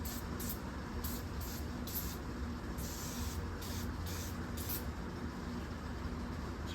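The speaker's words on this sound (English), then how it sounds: "That's going to spray these cylinders down too." Penetrant oil sprayed onto the cylinders of a seized Seadoo GTX Rotax engine during a teardown, about ten short hissing bursts in irregular succession over a low steady background, fairly quiet and close.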